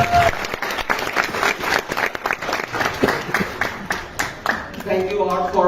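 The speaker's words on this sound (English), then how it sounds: "A big round of applause to" Audience applause at a closing ceremony, dense clapping from a crowd that swells and fades over several seconds, with a few voices heard through it.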